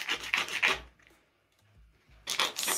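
Sandpaper rasps against the edge of corset boning in a few quick, close back-and-forth strokes, then pauses before another burst of rubbing.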